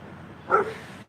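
A single short bark from a dog at a man walking his dog past the fence, fairly close, over a quiet background.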